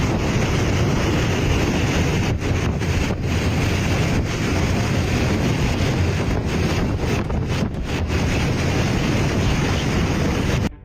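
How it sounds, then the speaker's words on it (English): Extremely strong wind batters parked cars, a loud, unbroken roar of buffeting gusts that overloads the microphone from start to finish and drops away only at the very end, with no voices. "It's so windy that these cars can barely stand the force of it."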